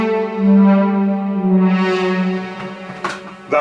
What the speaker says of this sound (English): And I also used a string pad that sounds like this.